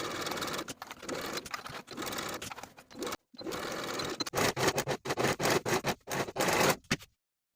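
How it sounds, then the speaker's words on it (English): Sewing machine stitching cuffs onto a boxy top with a 5/8 inch seam allowance: fast, loud, close whirring in several bursts, with brief pauses between runs and a final stop into silence. "Sew each of your cuffs in place with a 5/8 inch seam allowance"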